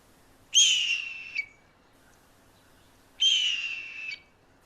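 Two drawn-out, descending screams of a red-tailed hawk, each a harsh, high, raspy whistle lasting about a second, separated by a quiet pause, heard fairly close with no other sound around them.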